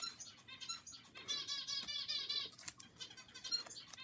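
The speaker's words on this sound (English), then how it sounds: "I'm sorry for the birds in the background" Birds flapping their wings in the background, with rapid fluttering bursts, scattered chirps and light patter in an irregular, moderately distant sequence with no one talking.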